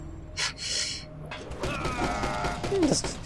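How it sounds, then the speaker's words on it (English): Doors being locked in a video game: a short run of creaking, clunking mechanical sounds, with a sharp squeak near the end, all close and moderately loud with no talking. "They're locking the doors."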